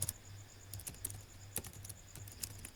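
Quiet keys clack on a computer keyboard in a short, irregular run of taps over a low background hum.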